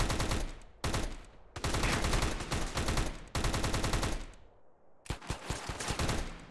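Pistols fire in the GTA gangster mod as gang members shoot, loud rapid volleys in several clustered bursts separated by short pauses, with sharp individual cracks toward the end.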